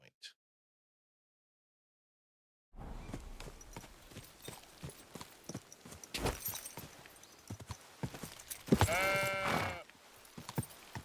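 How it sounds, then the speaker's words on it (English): In the video game Kingdom Come: Deliverance II, a horse's hooves clop in a quick irregular rhythm, close and fairly loud, with a sheep bleating sharply near the end, after a brief silence. "I think I just trampled a sheep."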